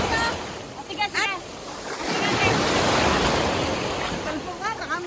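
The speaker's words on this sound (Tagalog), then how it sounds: "Ang hirap pala pag binabangga ka ng alon" Sea waves surge and wash onto an Egyptian shore in a continuous close, noisy roar with wind buffeting the microphone, while people shout and talk over the water.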